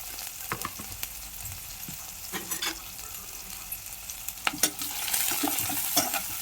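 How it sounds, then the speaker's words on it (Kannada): Onion and green chillies frying in a pan with mustard seeds and cumin, with a steady sizzle, intermittent stirring scrapes and crackles building louder toward the end, no voices. "ಒಂದು ಈರುಳ್ಳಿ ಕಟ್ ಮಾಡ್ಕೊಂಡಿದ್ದೆ ಮೆಣಸಿನ್ಕಾಯಿ ಫ್ರೈ ಮಾಡ್ಕೊಳ್ಳೋಣ"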